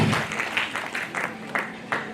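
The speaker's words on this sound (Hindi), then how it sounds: "मिसेस इंदु पात्रा मैम के लिए जोरदार ताली लीजिए।" Audience applause at a recognition event in a hall in Jamshedpur, a short burst of scattered claps at moderate loudness with uneven rhythm.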